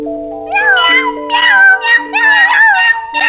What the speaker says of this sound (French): Eh bien, dites donc, elle en a des chats, la mère Michel.